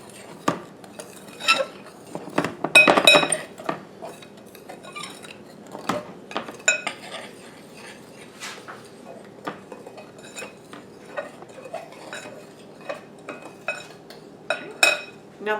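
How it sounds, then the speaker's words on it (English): A utensil stirs flour and sugar together in a bowl, making light, irregular clinks and scrapes that continue close by with no talking. "now we're going to mix all this up. Just our flour and sugar."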